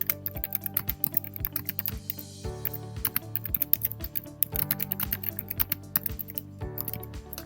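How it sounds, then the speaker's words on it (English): Someone types a message on a computer keyboard, producing rapid, close, crisp clicks in irregular bursts with a few brief pauses and no talking. "you can either type in a message"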